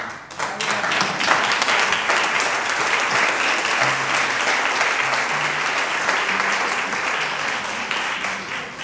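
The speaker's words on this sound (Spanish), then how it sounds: "Un aplauso para..." Audience at a book presentation on son jarocho applauding Grupo Mono Blanco with loud, sustained, dense clapping that fills the room, with faint voices and cheers mixed in.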